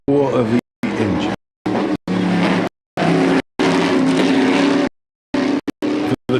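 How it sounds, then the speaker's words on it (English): A race car engine roars at Levels Raceway during an endurance series round, loud and harmonic-rich, chopped into abrupt bursts separated by brief silences, with a voice audible over parts of it. "and the roar of the engine,"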